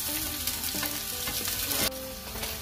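Wheat torrejas frying in a pan: a close, loud, continuous sizzle with brief stirring or turning scrapes in the oil and no speech.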